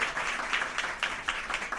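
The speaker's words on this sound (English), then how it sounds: "Big round of applause for Kyle's birthday" A live audience at a Seattle comedy podcast taping claps and cheers in a warm, dense burst of applause that swells in waves, with no clear speech over it.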